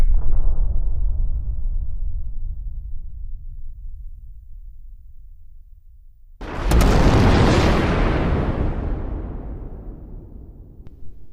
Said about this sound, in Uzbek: Yer sayyorasi 5 daqiqadan keyin portlaydi.